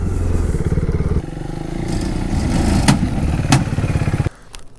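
A 2016 KTM Duke 390 motorcycle runs close by with a steady, throbbing engine note, broken by a couple of sharp clanks, and drops to a quieter idle near the end.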